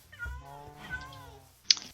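A cat meows in Minecraft, a drawn-out in-game meow with a short sharp sound after it, heard under soft talk.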